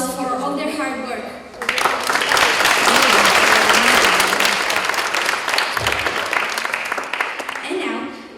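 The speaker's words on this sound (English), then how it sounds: "Let's give them a round of applause for all their hard work." A school audience at an Erasmus+ event breaks into loud, sustained applause for teachers, following a short stretch of speech and tapering near the end as a voice resumes.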